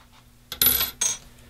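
A blade is dropped into a disassembled three-piece Rockwell 2C safety razor, making two quick, bright metallic clinks close by in a quiet room.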